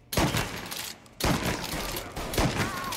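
Rapid bursts of gunfire from the Mafia Definitive Edition video game, a loud fusillade of several close shots with a short lull near the one-second mark before the firing resumes.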